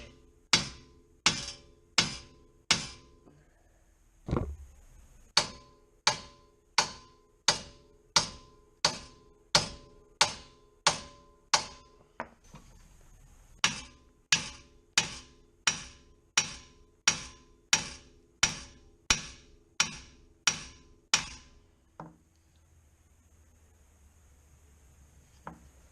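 Loud metallic hammer strikes ring out on the front wheel hub of a 1999–2004 Ford Mustang GT in a steady, rapid series, about two dozen blows with a brief pause partway through, close by and with no talking.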